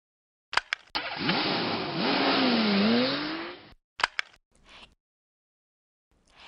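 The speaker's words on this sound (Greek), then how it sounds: "Έχεις δίκιο είναι ένα αυτοκίνητο που μαρσάρει" A car engine revs in one sustained burst lasting about three seconds, its pitch climbing and wavering, framed by short sharp clicks and knocks before and after, close and fairly loud.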